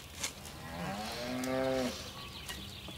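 A single long, loud cow moo, rising and holding for about a second before trailing off, with faint background noise and no talking.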